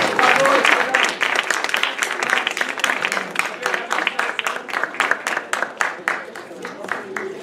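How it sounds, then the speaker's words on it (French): A theatre audience at a comedy show applauds volunteers playing astronauts on stage, dense clapping at first that thins into distinct rhythmic claps as it winds down, with a voice over it near the start. "On les applaudit,"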